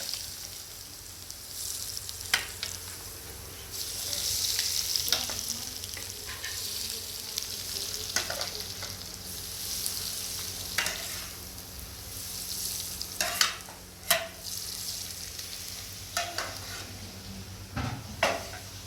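Steady sizzling of onions frying in hot oil for a tempering, with occasional stirring clinks and scrapes of a pan, close and continuous.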